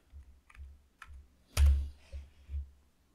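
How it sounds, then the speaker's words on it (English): Computer keyboard being typed on while setting up FydeOS on a Raspberry Pi 4, a handful of close, distinct key presses with one louder clack in the middle, irregular rhythm, no talking. "Let me use my keyboard."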